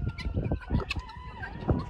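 Guinea fowl call close by on a small farm, a quick run of harsh clucking chatter in uneven bursts across a couple of seconds.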